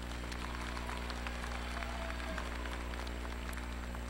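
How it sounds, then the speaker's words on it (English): Steady applause from a university commencement audience, a dense patter of many hands clapping, fairly distant and even, with no voices. "So let's all give them, all three of them, a round of applause"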